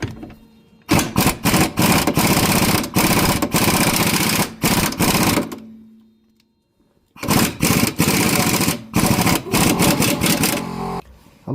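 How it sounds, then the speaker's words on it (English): Power tool tightening a rear shock absorber bolt on a 2009 Honda Civic 1.8 L petrol, loud rapid hammering rattles in long bursts with a brief pause between, close up. "so I'm gonna tighten again and put some penetrating oil on the other side"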